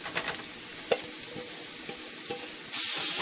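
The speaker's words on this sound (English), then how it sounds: "Just stir this well" Chopped lauki, or bottle gourd, sizzles in a frying pan while being stirred, with quick scraping strokes over a bright hiss that suddenly grows louder near the end.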